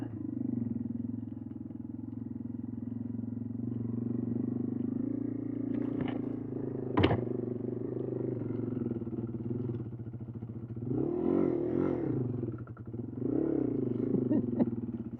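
A motorcycle in second gear climbing a sandy hill, its engine droning steadily with a few sharp clanks and revving surges near the end, moderately distant and with no talk.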